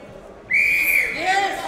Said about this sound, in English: We get the whistle now from the commission, the final 10 seconds of this round number 4.